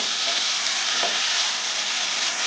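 Chicken pieces frying in hot oil for a Telangana-style chicken curry, a steady, dense sizzle filling the clip at close range with no talk.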